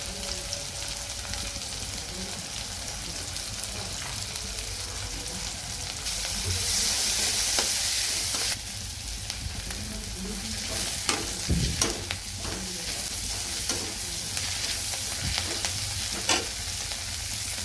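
Cooking for an okra dish with cumin, onion and garlic fries hard in a pan, a loud, steady sizzle that runs throughout, swelling briefly and broken by a few utensil knocks and stirring scrapes.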